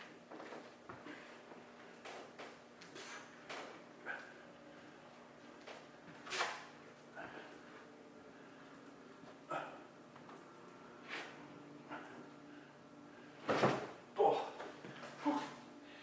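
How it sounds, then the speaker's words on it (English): A stuck car door on a vehicle getting a hardtop install is swung back and forth and lifted off its hinges, giving scattered metallic clunks and creaks that build into several louder knocks near the end, with no talk. "you want to swing the door back and forth as you're pulling up"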